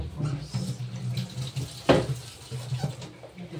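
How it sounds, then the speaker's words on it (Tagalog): Hot water runs from a kitchen faucet into a sink in a steady hiss, with a splash partway through and a few faint clatters. "ihuhugas sa mainit na tubig para matanggal yung mga bakterya"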